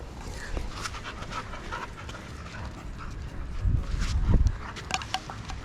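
A dog pants rapidly and rhythmically close by at the abandoned 1984 Olympic venues in Sarajevo, with rustling and some scuffling noises, growing slightly louder toward the end.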